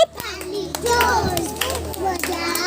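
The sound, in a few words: children clapping hands loudly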